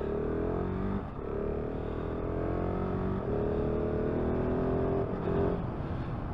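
A 2022 KTM 690 SMC R motorcycle pulls away, its engine note climbing steadily through the revs with brief dips at the gear changes, loud and close throughout with no talking.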